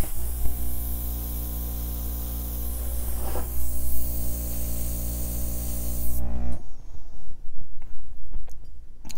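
An airbrush sprays acrylic paint onto an acrylic pour with a steady close hiss over a low hum for about six seconds, then cuts off, leaving faint quiet clicks and rustles.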